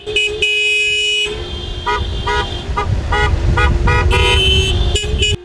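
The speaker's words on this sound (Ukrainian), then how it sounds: "Ця подорож супроводжується звуковими сигналами, аби люди чули та бачили учасників автопробігу." Car horns honking from a protest motorcade driving through Chernihiv streets in support of Euromaidan, several long and short overlapping blasts over engine and road noise, loud and close.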